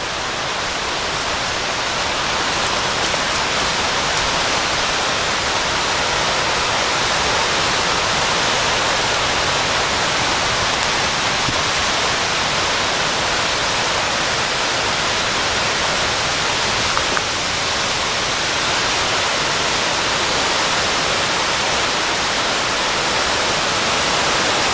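Glade Creek rushing in the New River Gorge beside a forest trail, a loud, steady, unbroken roar of moving water that fills the whole stretch without pause.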